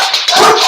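Pet dogs bark in a sudden loud, close burst lasting under a second, reacting indoors at home to a bang on a table.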